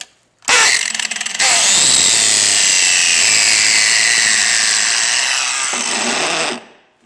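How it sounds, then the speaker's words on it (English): A right angle grinder with worn-down gears, working on a welded MTD tractor, roars up abruptly and runs for about six seconds with a harsh, grinding high whine and rattly texture before cutting off, loud and close. "my grinder just went to heck"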